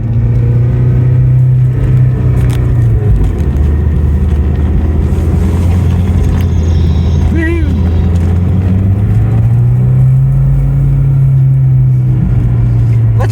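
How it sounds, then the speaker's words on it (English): A Maserati Shamal drives and turns, a loud steady engine drone rising and falling as it moves through the turn, with someone talking over it in the cabin. "Check out the turning circle of the Shamal as we glide around here."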